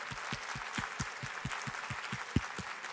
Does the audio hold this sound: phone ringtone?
no